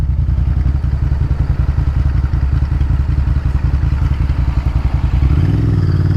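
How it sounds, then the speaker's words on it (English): Honda VTR1000 Firestorm V-twin motorcycle engine idling steadily around 1250 rpm after a stalling fault was repaired, a loud close lumpy rhythmic thump that holds even and settled throughout. "I'm idling at about 1250, which is about right, and it's settled."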